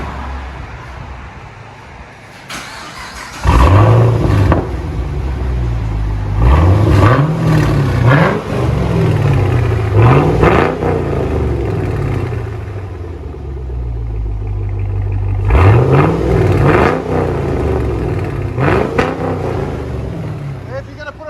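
Chevy Camaro SS with a 6.2L LS3 V8 and an aftermarket loud exhaust, revved repeatedly in rising, rasping sweeps over a deep idle rumble, loud and close, in two separate sets with a lull between them.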